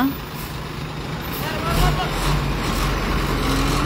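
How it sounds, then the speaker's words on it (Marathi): Heavy roadside traffic with trucks, buses and cars rumbles past in a continuous loud drone at an accident scene where a bike hit a cow, with voices faintly mixed in. "ट्रॅफिक बीन खूब जाल्लेली आसा."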